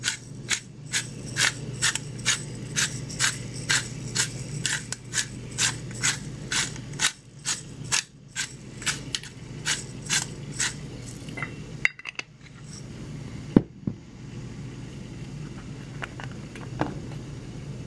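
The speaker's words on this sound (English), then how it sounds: "Fresh cracked pepper." Pepper grinder cracking fresh pepper over raw shrimp, a rapid regular series of clicking ratchet turns, close and crisp, running for several seconds before trailing off into faint kitchen clatter.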